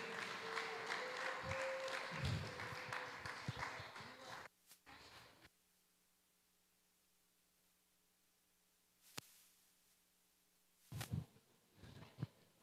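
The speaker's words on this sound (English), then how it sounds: "So please give her a round of applause." Audience applause at a children's church theater production, a dense burst of clapping with cheering that fills the first few seconds, then stops abruptly, leaving near silence broken by a few faint knocks and voices.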